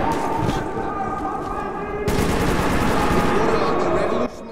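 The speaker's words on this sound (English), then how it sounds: "What, who's shooting? What is the gunshots for?" Sustained automatic gunfire in the Metro 2033 Redux video game at Armory Station, dense bursts that grow louder and heavier midway before cutting off, with a voice talking over it.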